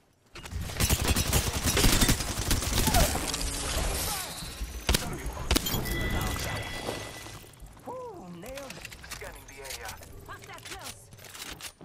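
Dense, rapid gunfire from the battle royale game Apex Legends in Shadow Royale mode crackles near and loud for several seconds, mixed with crashes and impacts, then thins out while a player talks over the action.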